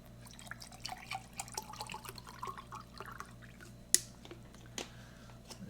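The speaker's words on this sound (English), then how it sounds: "Got some cold water for that." Cold water poured into a Dutch military ration pouch makes a quiet, close trickle with small drips and splashes, and a single sharper plastic knock stands out near the end.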